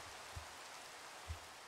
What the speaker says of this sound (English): Are you telling me this shader has raindrops that fall on my screen?